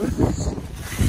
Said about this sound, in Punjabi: ਪੂਰੀ ਤੇਜ਼ ਹਵਾ